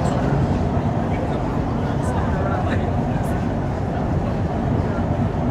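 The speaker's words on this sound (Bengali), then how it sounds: "আছি মেট্রো রেলের ভিতরে অংশটাতে" The interior of a moving metro train in Malaysia gives a constant low rumble and rolling hum throughout, with faint, indistinct voices in the cabin.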